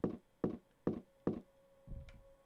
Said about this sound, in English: Especially when you can hear a heartbeat.